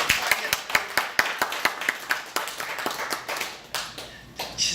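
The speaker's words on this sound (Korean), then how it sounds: "박수 치십시오." A religious gathering's audience claps hands in a sparse, uneven burst of sharp slaps, loud and close at first, then thinning into scattered claps, with no voices over it.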